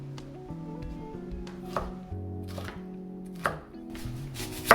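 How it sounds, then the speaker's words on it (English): Steady knife chopping of vegetables on a board, quick irregular taps with a few sharper knocks, close by, over faint background hum. "More chopping."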